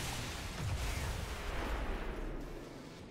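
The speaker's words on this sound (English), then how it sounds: "Interesting to see how the explosion happened before he fell down." Game sound of a car exploding in XCOM 2, a quiet, muffled rumbling blast that swells and then fades out over a few seconds.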